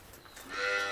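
A single dairy cow moos on a farm, a low call swelling louder over about a second, close by with no talking.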